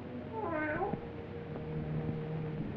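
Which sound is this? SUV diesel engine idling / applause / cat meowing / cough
cat meowing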